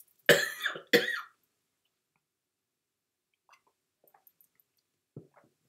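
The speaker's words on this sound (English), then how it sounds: "I'm going to cough." Two sharp coughs in quick succession, close and loud, followed by near silence with a few faint clicks and small mouth noises.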